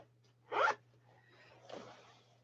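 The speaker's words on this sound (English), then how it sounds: "secure zippered, oh, right here, zippered thigh pocket." A short zip pulled on the zippered thigh pocket of a pair of quick-drying outer shorts: one sharp, close rasp, then a softer, longer drag a second later, with no talk over it.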